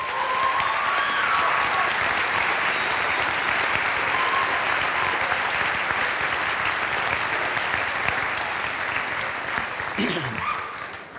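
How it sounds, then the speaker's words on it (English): A band concert audience at a high school in Hudson applauds the trombone and alto saxophone soloists: loud, dense clapping that holds steady, then thins and fades near the end, with a few faint voices underneath. "Let's give them a round of applause."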